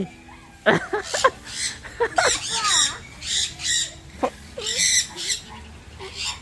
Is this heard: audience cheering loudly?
no